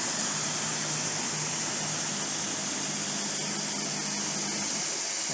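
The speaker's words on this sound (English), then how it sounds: "You can barely hear the machine running over the air compressor and the air purging system on the spindle." Air compressor and spindle air purge on a MultiCam 3000 5x10 CNC router, a loud, steady broadband hiss that runs throughout and buries the machine's own quiet running.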